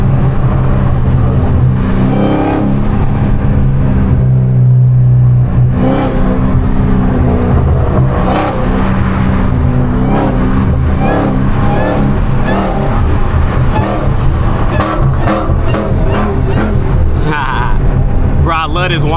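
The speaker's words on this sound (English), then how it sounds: "hit the gas a little bit" A hoodless widebody Hellcat engine roars loud and close, revving and building under acceleration with a constant heavy rumble, while someone talks over it.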